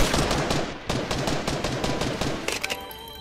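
Gunfire in Fortnite: rapid automatic bursts crackle almost continuously, with short gaps, then a final cluster of sharp shots. The fire is loud and dense, with no talk over it.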